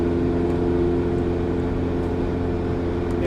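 Steady engine drone from a 1997 Ferrari F355 GTS with six-speed manual gearbox on a test drive, a constant low hum at cruising speed with road noise and no talking.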